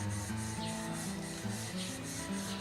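A steel chisel is rubbed on a 300 grit sharpening stone in steady, continuous back-and-forth strokes, a close, even grinding rasp with no voices.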